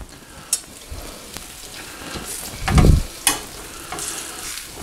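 Onions in butter sizzle softly in a pan, punctuated by a few sharp clinks and one louder burst of frying as food is stirred or added.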